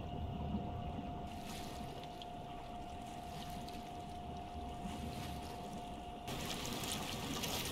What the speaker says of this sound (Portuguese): vai ter a cutscene da água saindo